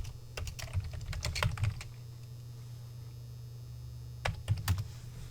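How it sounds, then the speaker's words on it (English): Keys tap on a computer keyboard in a quick, irregular flurry, then pause, then a few more keystrokes follow near the end, close and fairly quiet over a steady low hum. "let's just type that into the site and see what we have listed"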